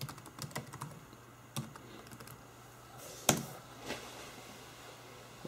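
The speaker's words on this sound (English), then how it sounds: "I'm just going to type in my username." Computer keyboard typing a password at a Windows 8 login, a quick run of light key clicks with a few sharper taps, close and fairly quiet, no talk.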